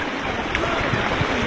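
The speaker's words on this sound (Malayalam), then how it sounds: "കനറ ബാങ്കിന്റെ അടുത്ത് നല്ല ശക്തമായ ഒഴുക്കാണ്." River floodwater rushes strongly across a flooded road in Malappuram, Kerala, a dense continuous roar of flowing water heard close and loud, with no pauses.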